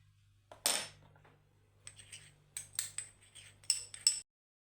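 Small spoon clinking and scraping in a little bowl while coffee powder, ghee and turmeric are mixed, a quick burst of sharp clinks followed by a run of light, irregular taps, close and alone.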